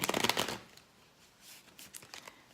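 A deck of cards is shuffled with a quick riffling flutter at the start, followed by softer shuffling and handling of cards, close and quiet with no talking.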